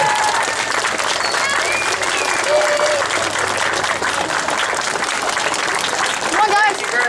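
Applause and cheering from a crowd of students and staff at an elementary school ceremony honoring a departing teacher, steady and close for the whole stretch, with scattered voices calling out within the clapping.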